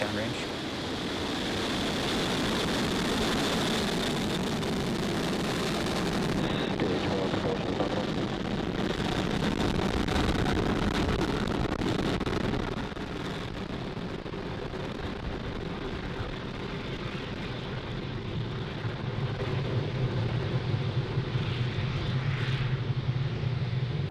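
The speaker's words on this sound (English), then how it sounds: "Ignition and liftoff." A SpaceX Falcon 9 rocket lifting off, with a broad, continuous engine roar that holds steady and dense for the whole span, heard from a distance.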